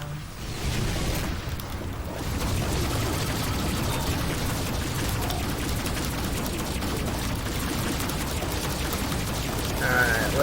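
Space combat gunfire in the video game Rebel Galaxy Outlaw: a dense, continuous rattle of rapid weapon fire with a steady roar beneath, constant and moderately loud for the whole stretch.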